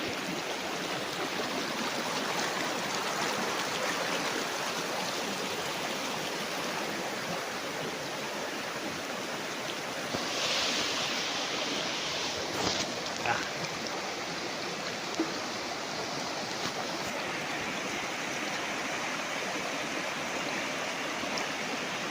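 A river flowing beside a farm lot in Majayjay, Laguna, with trees around, gives a steady, broad rushing of water that holds evenly throughout and sounds close.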